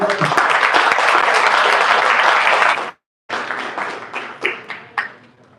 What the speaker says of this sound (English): let's give them a nice rolling clap